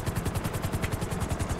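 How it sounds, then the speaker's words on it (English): Helicopter flying in GTA 5 Online, an unarmed chopper with a fast, steady rotor thump, loud and close, pulsing evenly throughout without speech. "Hopefully we do not get the gang attack as I'm in an unarmed helicopter."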